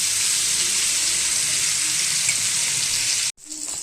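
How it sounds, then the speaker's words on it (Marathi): Paneer frying in a pan makes a loud, continuous, close hiss of hot oil that cuts out briefly near the end before resuming. "आता आपलं पनीर दुसऱ्या बाजूनी पण चांगलं फ्राय झालंय"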